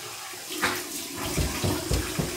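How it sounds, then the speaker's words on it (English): Warm water splashes and sloshes in several short bursts as a face is rinsed after a three-pass wet shave, close and fairly loud with no talking. "here's my warm water rinse"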